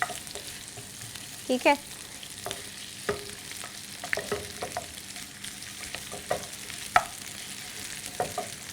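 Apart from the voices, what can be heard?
vegetables being stir-fried in a pan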